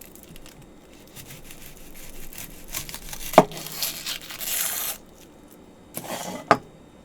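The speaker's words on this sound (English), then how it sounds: "So I'm just going to carefully peel it." Dry papery skin is peeled off a large onion in short crinkling tears and rustles, close and fairly quiet, with a couple of sharper snaps and a louder burst of tearing midway.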